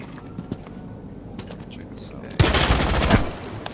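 Gunfire in a shooting video game: quiet clicks and small pops under a low background at first, then a loud burst of rapid shots that lasts about a second before easing back.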